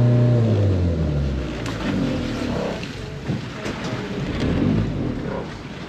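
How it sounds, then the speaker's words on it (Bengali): A boat engine's deep, steady rumble close by near Hidden Beach in El Nido, its low tone dropping slightly at first as the boat eases toward a stop, with water wash underneath. "এখন আমাদের বোটটা থামছে।"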